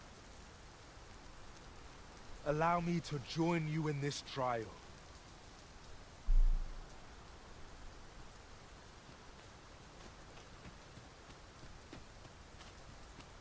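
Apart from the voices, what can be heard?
heavy rain falling in Dragon's Dogma 2 video game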